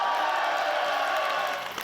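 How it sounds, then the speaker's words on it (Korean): A large crowd at a political party members' day event applauds and cheers in a steady, sustained roar of clapping and voices that eases slightly at the end. "박수!"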